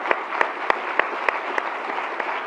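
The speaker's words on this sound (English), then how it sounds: "let's give her a round of applause" An audience applauds in a room, a steady bed of clapping with a few sharper individual claps standing out, moderately loud and without talk.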